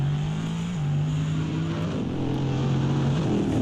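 GT3 race cars lapping Monza, a loud sustained engine drone with steady pitch that shifts between gears as cars run past, continuous and close with no pauses.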